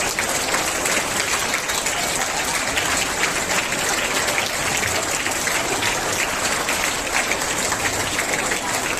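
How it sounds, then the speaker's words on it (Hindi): A school audience at a Worker's Day celebration in New Delhi applauds, a dense, loud, sustained roar of clapping hands that holds steady from start to finish like heavy rain. "कृपया तालियों की गूंज बरकरार रखें।"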